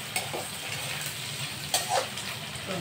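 Onions and garlic with whole spices fry in a pan for paneer butter masala, a steady close sizzle with stirring scrapes rising briefly above it, no voices.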